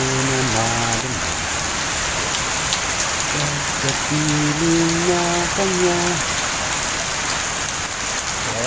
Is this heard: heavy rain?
yes